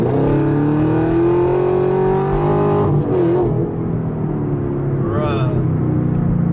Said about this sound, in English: When I tell y'all, this exhaust sounds stupid